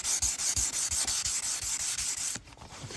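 1200-grit sandpaper rubs back and forth across stainless steel trim in rapid, even strokes, a close and loud rhythmic scratching that pauses briefly near the end.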